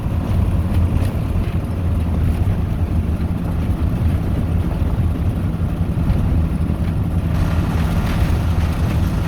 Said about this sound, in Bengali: এখন আপনারা উপভোগ করুন হিনোর সাউন্ড